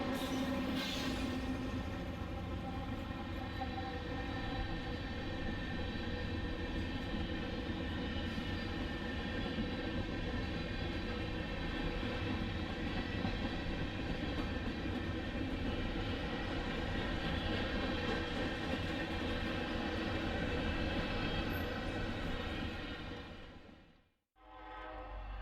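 A westbound Norfolk Southern grain train rolls toward the signals with a loud, steady diesel drone and horn-like tonal hum, continuous for over twenty seconds before cutting off abruptly.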